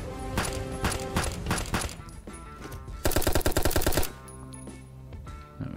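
Gunfire at hostile targets in the shooting game Hot Brass: loud rapid bursts of shots, first spaced single cracks, then a dense fast automatic volley, ending in a quieter mechanical tail.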